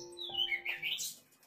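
Caged magpie-robins (murai) squawk and chirp in a short burst of bright, rising and falling calls, close and fairly loud, with no talking.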